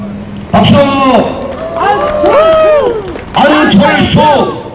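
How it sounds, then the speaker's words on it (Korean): Crowd at a Korean political campaign rally in Jecheon cheering and shouting in loud bursts, with whoops and voices rising over a steady clamor of the gathered audience. "우리 모두 함께 큰 박수와 환호로 이 두 분을 맞이해 주시기 바랍니다"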